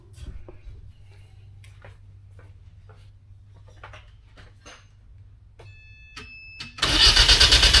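Quiet clicks and faint mechanical sounds give way near the end to a sudden loud cranking burst from a turbocharged Mazda Miata NC engine turning over on the starter, close and harsh.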